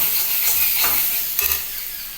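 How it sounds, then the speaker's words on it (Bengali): Fennel seeds, green chili and ginger frying in a wok, giving a steady bright sizzle with soft stirring scrapes, close and continuous, with no talking. "একটুখানি কড়াইতে একটু যেহেতু মৌরি কাঁচা লঙ্কা আদা একটু যদি কষিয়ে নেওয়া যায়"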